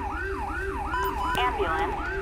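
Ambulance siren in GTA 5 wailing in a fast, regular up-and-down cycle, loud and close, with a brief sharp knock partway through.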